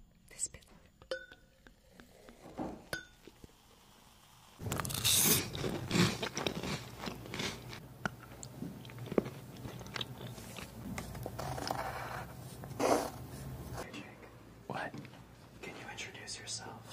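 Someone bites and chews a crunchy snack close to the microphone in an ASMR style, with soft crunches and faint clinks under continuous whispered talk.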